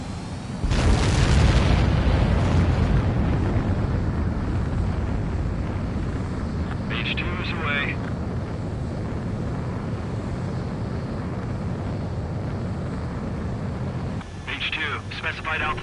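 A fighter jet launches in the combat flight game Ace Combat 7, opening with a loud roaring burst of engine thrust that settles into a steady jet rumble, while radio voices talk over it.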